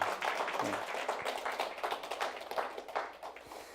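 Church congregation at a Wednesday service claps together in celebration, a brief burst of scattered hand claps mixed with faint background murmur.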